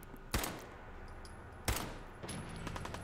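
Two sharp, loud pistol gunshots in the video game Fallout 4, spaced about a second and a half apart, each with a short decaying tail, followed by fainter scattered clicks and rustles.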